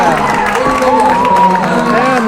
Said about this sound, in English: And the cheering section is very happy here